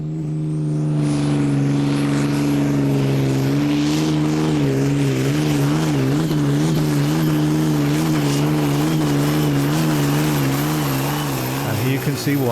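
A pulling tractor at the 2008 Danish Championship tractor pull in Hjallerup roars loud and sustained through a double full pull of over 110 metres, its heavy harmonic drone wavering in pitch under a commentator's voice.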